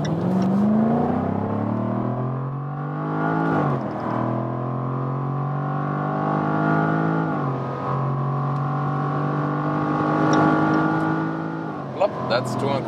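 A Jaguar F-Type P450 V8 coupe with its roof closed accelerates hard on a motorway. The engine note climbs steadily through gear changes and is heard from inside the cabin as a loud, rising drone.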